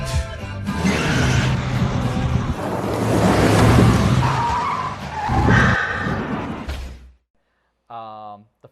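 A car's tires skid as it swerves to avoid an accident in the horror film The Loved Ones: a long, loud screech with voices over it, which cuts off abruptly into near silence before a brief final sound.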